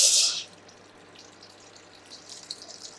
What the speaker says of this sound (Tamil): இப்போது பாத்திரத்தில் தண்ணி ஊற்றிக்கலாம்.